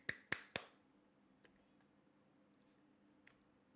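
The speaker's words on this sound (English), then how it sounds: "let's try this. Clap test again." Three sharp hand claps in quick succession at the start, loud and close, followed by near silence with only a few faint ticks; used as an audio sync test.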